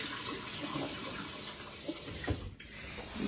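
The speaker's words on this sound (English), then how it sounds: "I'm going to rinse all this again really good to make sure I get all the vinegar off of it" Running tap water rinses vinegar off strawberries, a steady close splashing wash with a brief gurgle and change near the end as the flow shifts.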